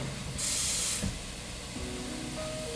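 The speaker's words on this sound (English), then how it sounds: "Add a little water to it." A steady sizzling hiss from a hot pan of cube steak after water is added, with a brief louder burst of steam early on, continuing evenly throughout.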